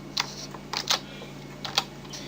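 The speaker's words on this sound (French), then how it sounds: "Moi, je vais l'effacer et le retaper tout en regardant les touches sur lesquelles j'appuie." Computer keyboard being typed on, a handful of separate clicking keystrokes in small irregular bursts, close and clear over faint background hum, with no talk.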